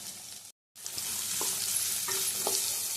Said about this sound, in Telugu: మరీ హార్డ్గా వేయించకూడదండి